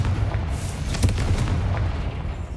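A blasting spell from Hogwarts Legacy bursts into a broad, booming explosion that rumbles steadily for a couple of seconds, loud and dense with low-end weight.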